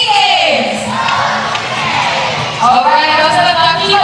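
Spectators at a SEA Games netball semi-final between Singapore and Thailand cheer and shout together, a loud, continuous crowd roar with higher whoops and children's voices rising through it.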